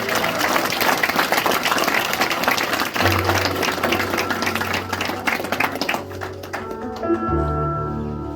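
Church congregation applauding during a worship service, dense rapid clapping that continues strongly, then thins near the end as sustained keyboard or organ tones come in.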